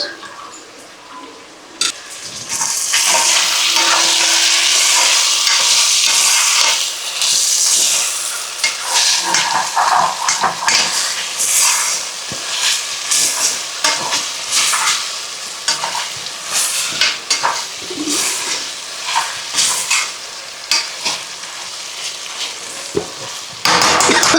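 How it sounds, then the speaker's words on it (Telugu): Chicken pulao ingredients sizzle and fry in a pressure cooker as they are stirred, a loud, steady crackle with scraping spoon strokes throughout. "బాగా వేగాలి ఫ్రెండ్స్"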